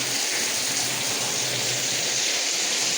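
Rain pours down outdoors in a steady, dense hiss that holds at an even loudness from start to end, with no voices.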